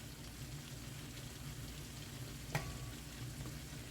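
Baby carrots cook in a hot pan with a steady, even sizzle, close and fairly quiet, broken by one sharp clink partway through.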